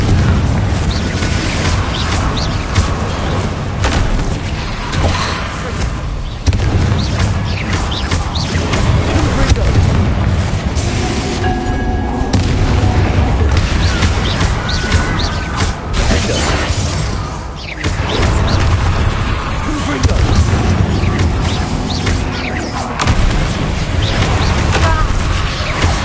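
Confringo blasting spells explode repeatedly in the video game Hogwarts Legacy, with loud, dense booms, bursts and shattering crashes following one another almost without pause over a constant rumbling battle din.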